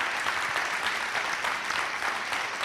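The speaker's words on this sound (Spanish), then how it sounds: "Un aplauso para él, por favor" An audience at a live interview event applauds: steady, dense clapping from many hands, fairly close and even throughout.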